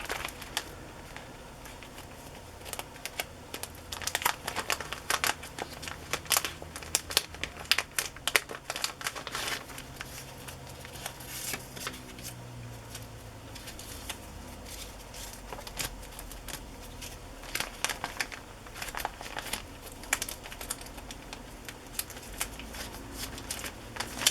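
Label sheets in a binder are handled and flipped through, giving soft, irregular papery crinkles and rustles that come in close, faint bursts over a quiet background.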